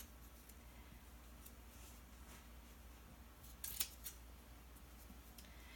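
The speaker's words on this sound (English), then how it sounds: "So I will quickly cut these out." Scissors cutting fringes into a fleece blanket, soft close snips spread across a quiet room with a brief sharper burst of cuts near the end, no talking.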